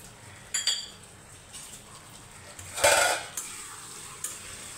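Spoon scraping and clinking in a pan while sugar is stirred into pointed gourd mustard gravy; a few light metallic clinks and a louder scrape mid-clip, otherwise quiet, no talk.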